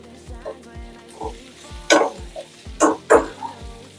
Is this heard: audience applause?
no